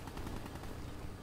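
Rapid gunfire from a tactical shooter video game strikes a wall, a dense continuous burst of muffled impacts and shots that fills the short moment without any voices.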